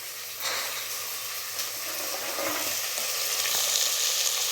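Soaked white cowpeas (lobia) fry in hot oil, giving a steady, close crackling sizzle that builds a little louder toward the end, with no voices.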